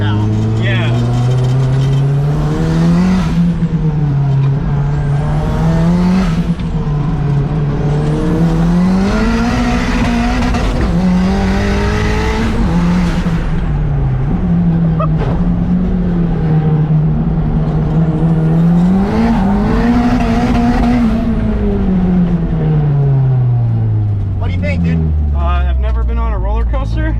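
A heavily modified, very powerful car engine, the Ricermiata, revving hard and accelerating while driving, loud and close, with rising and falling engine pitch sweeps and gear changes throughout.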